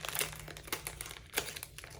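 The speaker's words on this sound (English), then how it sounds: "sorry for all the crinkling" Plastic packaging crinkles and rustles in close, irregular bursts while a parcel is unboxed, quiet overall with sharper crackles scattered through.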